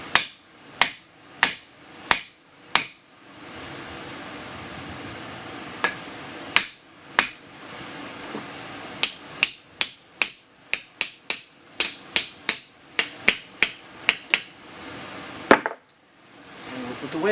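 Wooden handle tapped onto an adze made from a lawn mower blade, a series of sharp, close knocks in irregular bursts with short pauses, ending in a louder blow and a faint rustle.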